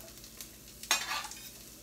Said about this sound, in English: Get a little sizzle going. There we go. You'll hear that sizzle, you'll hear that pop.